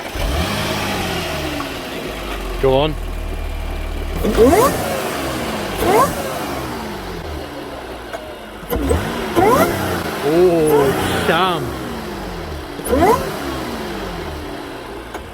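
Audi S5 fitted with an APR carbon intake revs repeatedly from idle, each rev a sharp rising roar and falling whoosh, loud and close, with people talking between the revs.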